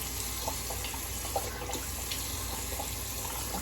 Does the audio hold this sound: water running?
yes